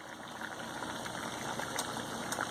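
Fiddleheads boiling in a pot of water, making a steady, soft bubbling hiss that stays even and fairly quiet throughout, with no talking.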